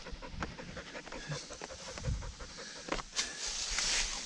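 A hunting dog pants hard and steadily after a grouse hunt outdoors, rapid breaths close to the microphone with faint rustling around it.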